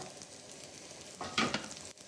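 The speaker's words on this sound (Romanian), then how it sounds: "Deci baza este usturoi pe care îl tragem puțin în tigaie." Garlic is stirred and gently fried in a pan, a soft steady sizzle with a brief louder scraping stir near the middle, close and quiet, with no voices.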